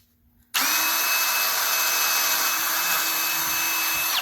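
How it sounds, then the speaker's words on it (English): A power drill bores a pilot hole in a cabinet, starting abruptly and running at a steady high-pitched whine for nearly four seconds, close and loud, before it winds down. "I'm going to drill basically a pilot hole"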